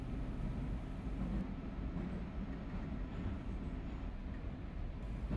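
A metro train in a subway simulator game rolls into a station, a low steady rumble of wheels and motor with faint rail clatter, fairly quiet throughout and without speech.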